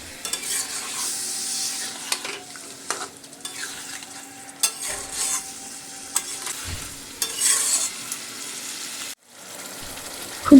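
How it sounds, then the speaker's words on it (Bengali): A spoon stirs and scrapes an egg curry in a pan after a little water is added. Soft sizzling runs underneath the intermittent close stirring strokes, and no one speaks. "এর মধ্যে দিয়ে দেব অল্প পরিমাণে জল। আবারও আমি খুব ভালো করে নেড়ে দেব।"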